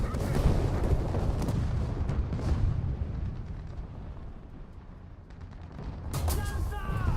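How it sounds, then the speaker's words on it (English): Artillery strike explosions in War Thunder: a dense, rumbling barrage of heavy blasts that fills the first seconds, fades toward the middle and swells again near the end, under a player's voice. "I figured I might as well artillery strike it"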